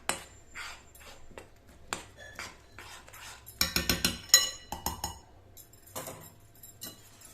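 A whisk stirs jaggery syrup in a bowl, giving quick bursts of metallic clinking and scraping against the bowl with pauses between, close and clear, and a dense flurry of rapid strokes midway.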